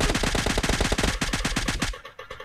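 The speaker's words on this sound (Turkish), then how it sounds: "Evlerden sıkıyorlar." Rapid automatic gunfire from houses in a PUBG Mobile match, a dense rhythmic burst of close, loud shots lasting about two seconds before cutting off abruptly.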